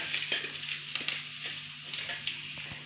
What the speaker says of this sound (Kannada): ನೆಕ್ಸ್ಟ್ ಇದಕ್ಕೆ ಈರುಳ್ಳಿ ಹಾಕ್ಕೊತಾ ಇದ್ದೀನಿ ಈರುಳ್ಳಿ ಮತ್ತು ಬೆಳ್ಳುಳ್ಳಿ ಹಾಕ್ಕೊಂಡಿದ್ದೀನಿ